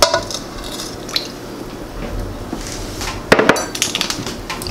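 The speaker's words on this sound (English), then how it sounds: "I'm just going to stir this all around until it's incorporated" Almond flour, sweetener and melted butter being stirred together in a bowl for a keto cream pie, with soft squishy mixing and a few spoon knocks against the bowl, including a louder clatter near the end.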